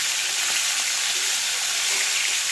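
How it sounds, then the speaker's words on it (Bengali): Hilsa fish frying lightly in a pan after being flipped to its second side, a steady close broadband sizzle with soft crackles running throughout, no voices. "ইলিশ মাছ এক সাইড অলরেডি ভাজা হয়ে গেছে, এতে তো খুব বেশি কড়া ভাজা যাবে না, তাই দ্বিতীয় পিঠটা উল্টে দিলাম"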